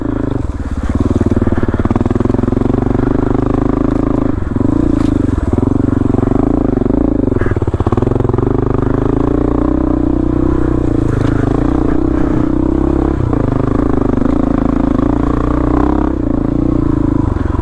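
A motorcycle rides a rutted high-country mountain trail, its engine droning loud and steady throughout with small surges, while clatter and scraping from the rough ground run underneath.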